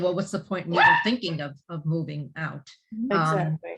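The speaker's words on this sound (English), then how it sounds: "Sorry about the dog." A dog barks a few times in the background of a home, sharp yips mixed under steady conversation between people talking about real estate.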